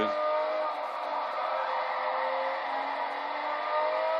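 Race cars, including a Subaru, work the throttle through a sequence of turns, a sustained buzzing engine drone from a distance that wavers gently as the power is balanced, with no break in the sound.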